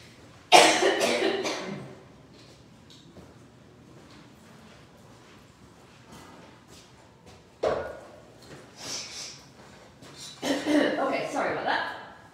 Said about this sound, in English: Sorry, I've got the cough.